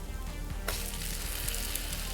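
Butter sizzles and crackles steadily in a hot pan while making French toast, the hiss jumping suddenly louder partway through and staying bright and continuous.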